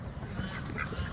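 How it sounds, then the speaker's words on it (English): Ducks quacking on a backyard poultry farm kept with chickens and geese, a steady run of close, moderately loud quacks that overlap one another, with no talk. "Crazy ducks."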